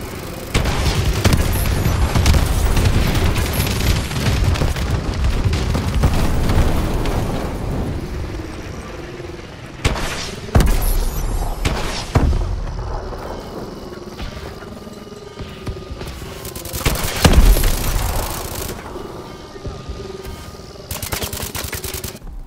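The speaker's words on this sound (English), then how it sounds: "Friendly bombing run clearing the way" Heavy explosions and booming blasts from an air bombing run in Call of Duty: Advanced Warfare roll over steady gunfire, with sharp detonations bursting out near the middle and later in the sequence.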